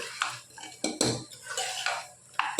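Metal spoon scraping and clinking against a pan while chicken is stirred together with turmeric, cumin and coriander powder, several sharp scrapes and taps in an irregular rhythm, close and moderately loud.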